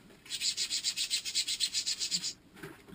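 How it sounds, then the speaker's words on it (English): A small brush scrubs an Earthship surface with mild soapy water from a bucket, a quick run of about sixteen rhythmic, bristly rubbing strokes heard close up, then a pause and a couple of softer scrapes. "I just use a bucket full of mild soap and my little brush"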